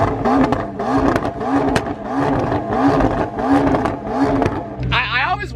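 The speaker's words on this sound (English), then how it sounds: "Dave, rev it really fast!" A car engine revs hard and fast in repeated surging pulses, loud and close, with voices talking and shouting over it, ending in a sudden burst of noisier crackle.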